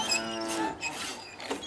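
Several cows moo loudly and close by in overlapping, drawn-out calls, a continuous bovine chorus with no talk.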